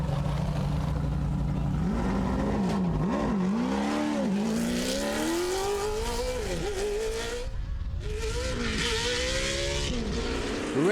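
Pro 4-wheel-drive off-road race trucks at the 2014 TORC Bark River event race loud and close, with engines rising and falling through repeated revs and shifts, no talk.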